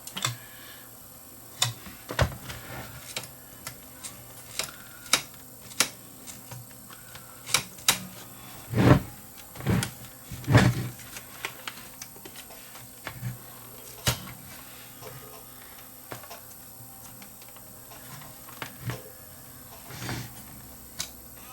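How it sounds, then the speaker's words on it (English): Loading motor of an old Sanyo portable Betamax with a slipping belt, faint close whirring behind sharp mechanical clicks and clacks that come at irregular intervals, no speech. "That's the one that the belt is slipping on."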